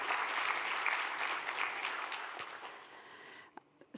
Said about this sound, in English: So please give a big round of applause again for our partners and sponsors.